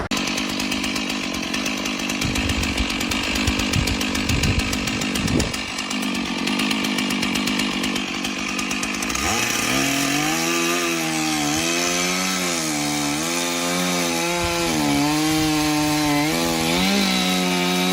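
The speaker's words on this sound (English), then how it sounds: "A massive branch from the towering tree is being cut. The chainsaw shrieks through the silence" Chainsaw cutting through a massive branch of a towering tree, loud and continuous, with rough rasping at first, then a steady revving engine whine that rises and falls as the cut proceeds.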